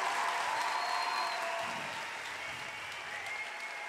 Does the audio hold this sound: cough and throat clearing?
no